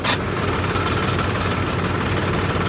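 A tractor engine runs steadily close by, a dense low rumbling drone with constant vibration and no change in pitch, filling the whole moment without any voices.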